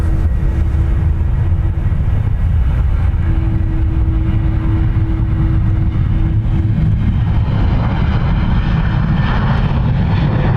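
An Aer Lingus airliner at Dublin Airport gives a loud, continuous low engine roar, close and steady with a tonal drone that shifts slightly over time, no talk.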